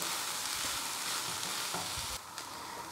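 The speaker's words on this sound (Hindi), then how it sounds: "इन सारी चीज़ों को अच्छी तरह से मैं मिक्स करूँगी और थोड़ी देर भून लूँगी, 1-2 मिनट के लिए बस।" Chicken filling ingredients for stuffed onion rings fry and get stirred in a pan, a close, continuous hiss that drops off slightly near the end, with no voices.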